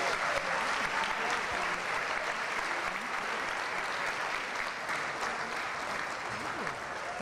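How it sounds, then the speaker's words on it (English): Sustained applause from the audience at a church's 150th anniversary celebration, steady and fairly loud clapping that runs throughout, with faint voices mixed in beneath it. "Another round of applause."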